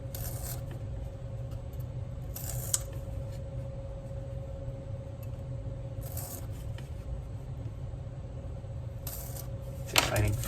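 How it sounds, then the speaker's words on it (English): Blade scoring the top paper layer of corrugated cardboard, a few short scraping rasps spaced a few seconds apart, close up, over a steady low background hum with no talking. "not all the way through, just scoring that top layer of paper"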